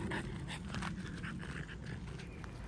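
A tired dog pants close to the microphone after a long walk, quick steady breaths over soft background noise.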